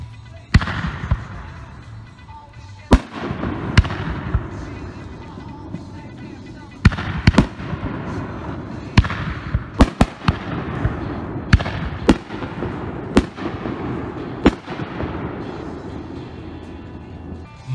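A Mother of All Bombs consumer firework goes off at an outdoor demo, a rapid string of sharp, loud bangs and crackles spread over many seconds, with echoing booms between bursts.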